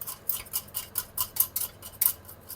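Eggs and sugar hand-whisked in a bowl, quick regular metallic taps of the whisk against the sides, about four strokes a second, close and alone.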